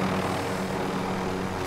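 Helicopter in a Call of Duty match, a steady, dense rotor and engine drone holding at moderate level throughout, with no talk over it.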